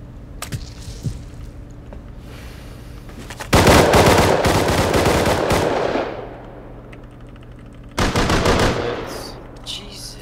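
Bursts of automatic gunfire in the modded survival game Rust: a few scattered shots, then a long loud rapid volley and a second shorter burst, with low background noise between.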